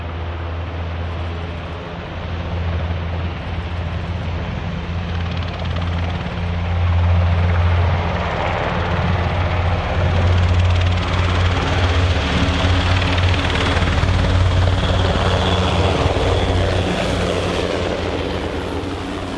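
Military transport helicopters flying in formation on a training exercise produce a loud, continuous rotor drone and thudding beat that swells and holds steady throughout, with no voices.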